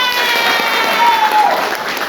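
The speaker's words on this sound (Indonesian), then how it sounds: "Tepuk tangan." A classroom of students applauding steadily, dense clapping that holds at an even level throughout, with some voices mixed in.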